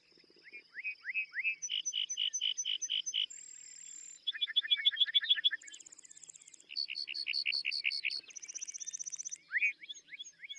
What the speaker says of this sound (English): Lark bunting.